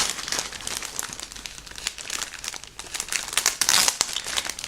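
Continuous crinkling of a resealable plastic bag of model kit parts, close and fairly loud, with irregular crackles and rustles throughout and no talking.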